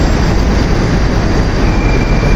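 A Moscow metro train stands at a station, a loud, steady rumbling roar of rail noise and machinery filling the platform, with a faint high whine entering toward the end.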